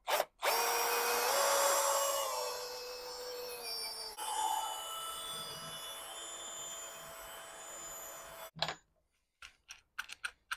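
A close power drill whines steadily, its pitch shifting as a drill bit grinds burrs from the inside of a case, then stops, followed by a few sharp clicks and taps.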